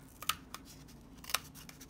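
Scissors snip twice, sharp and close, cutting a small rectangle from craft material for a DIY phone holder, in a quiet room with faint rustling between cuts.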